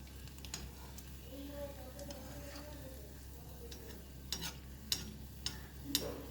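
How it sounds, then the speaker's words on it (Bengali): Stuffed sweet potato pantua fry in medium-hot oil with a faint, steady bubbling sizzle over a low hum, broken by a few soft, sharp clicks near the end. "এরকম যদি মিডিয়াম তেলে মানে মিডিয়াম গরম তেলে ছাড়েন"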